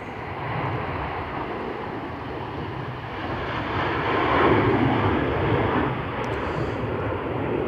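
A Turkish Airlines Airbus jet at Manchester Airport on a stormy day gives off a steady, broad engine roar that swells slightly midway, with no voices.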